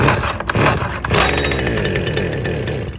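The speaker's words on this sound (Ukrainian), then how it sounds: "Тут увімкнули запалювання і смикаємо до першої спички, до першого хлопочка." Holzfforma FF-255 petrol brush cutter pull-started: a cord yank coughs the small two-stroke engine to life, and it keeps running with a loud, close, raspy buzz.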